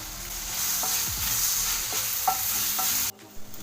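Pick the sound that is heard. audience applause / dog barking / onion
onion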